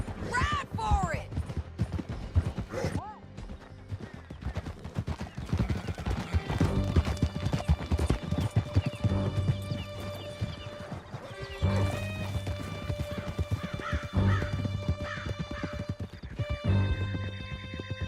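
Horses gallop in Red Dead Redemption 2 during a canyon escape, hooves pounding in a busy rhythm under shouted voices, whinnies and music-like tones, loud and close throughout.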